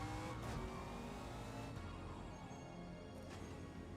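A race car with a four-speed manual gearbox, a NASCAR stock car at Bathurst in a racing game, engine droning steadily and close, with a few gear-change dips and a brief tire squeal.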